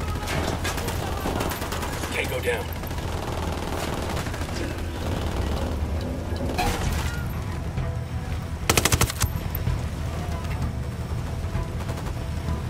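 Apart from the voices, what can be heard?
gunfire in video game Ghost Recon Wildlands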